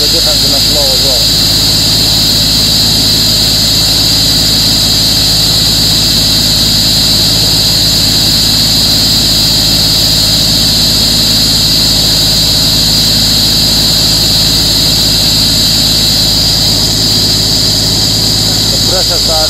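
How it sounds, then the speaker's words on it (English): A Niftylift HR28/SP85 boom's hydraulic hose carries fluid with a loud, constant hissing flow and low engine-like drone while a valve is being adjusted, holding steady for about twenty seconds with brief speech near the start and end. "Hopefully you can hear the difference in the flow as well."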